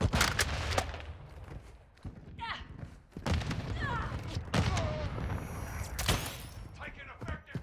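Video game gunfire in Call of Duty: Modern Warfare II, loud broadband shots and bursts spread across the clip, with radio-style voices talking between them.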